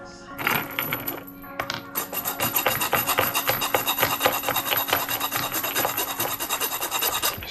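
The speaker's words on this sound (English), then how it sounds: "Started with the big file, and I used the pliers to hold the one link that I needed to file." A big file rasps back and forth across a steel chain link held in pliers, a fast regular stroke rhythm, close and steady for several seconds.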